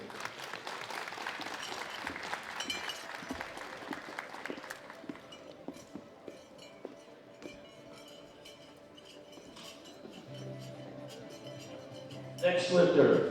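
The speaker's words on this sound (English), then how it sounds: "Big round of applause for all of our winners." An audience applauds the junior women winners at the 2017 World Classic Powerlifting Championships; dense clapping in the opening seconds thins into scattered claps, and a louder burst of noise comes near the end.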